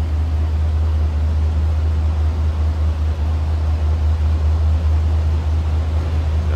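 A 1982 Buick Riviera convertible's engine idles with a steady, low rumble, heard continuously at close range from the rear, even and unbroken with no voices.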